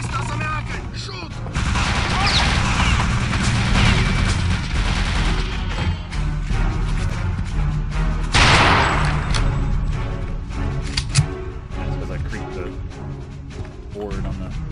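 Rifle gunfire in the video game Return to Castle Wolfenstein, loud shots and booms mixed with a dense, busy game soundscape, with a person talking throughout.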